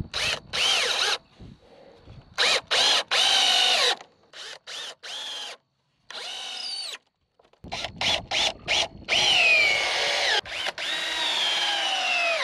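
A power drill drives screws into the wooden base and legs of a firewood roadside stand, in repeated loud bursts of whirring, some short and some long, separated by pauses, with no talking.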